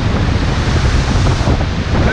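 Heavy, continuous roar of the São Romão waterfall in Chapada das Mesas, where a very high volume of water falls, heard up close as a broad rushing wash with wind buffeting the microphone.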